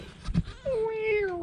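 A tabby mother cat near her kittens gives a soft thump of movement and then one long, steady meow that slowly falls in pitch, close and fairly quiet.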